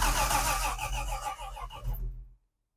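A car engine cranks and fires up with the key for the first time, catching into a rough, loud running roar for about two seconds before cutting off abruptly into silence.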